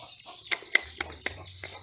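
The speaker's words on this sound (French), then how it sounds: "On entend les poules." Chickens cluck and squawk nearby in Cameroon in a few short, sharp bursts over a faint steady hum.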